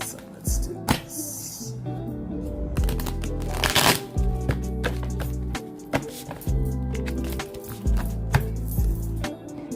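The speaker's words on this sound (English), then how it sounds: "I know I shuffled for a long time" Tarot cards being shuffled by hand, a close, continuous riffling and slapping of the deck with repeated rhythmic bursts and soft taps, with no talk over it.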